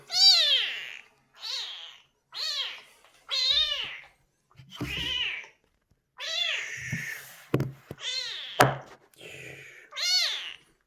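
Two-week-old kitten meowing while being bathed, a series of loud, high, insistent cries repeated every second or so, with occasional knocks and splashes between them.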